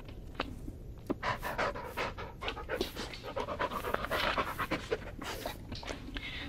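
A dog in the Blair Witch game pants rapidly and rhythmically up close, a quick run of breathy huffs lasting several seconds with no speech over it.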